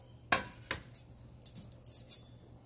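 A knife slicing pieces of grilled flank steak on a board, two sharp clicks of the blade early on followed by softer faint taps and scrapes in a quiet setting.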